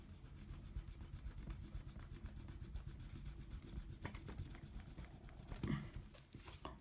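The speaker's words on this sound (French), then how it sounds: "On peut maintenant gommer." A pencil eraser rubs back and forth on drawing paper in steady, close, continuous strokes, with a brief louder scrub near the end.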